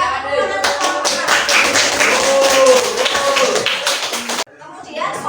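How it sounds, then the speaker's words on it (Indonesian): A school class applauding a student group, a burst of many hands clapping for about four seconds before cutting off, with a voice speaking over it. "Silakan berikan tepuk tangan untuk kelompok"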